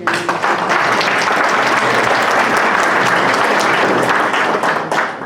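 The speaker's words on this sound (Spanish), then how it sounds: "Vamos a recibirla por favor con un aplauso." An audience welcomes a Constitutional Court magistrate with sustained applause, a loud, dense round of many hands clapping evenly for over five seconds before tapering off at the end.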